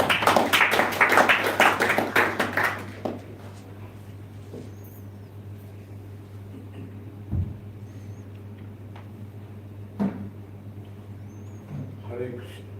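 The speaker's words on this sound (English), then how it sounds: "Let's give Prabhu another round of applause." An audience claps at a Srila Prabhupada devotional evening. The dense burst of applause lasts about three seconds and quickly fades into a quiet hall with a steady low hum and a few scattered knocks.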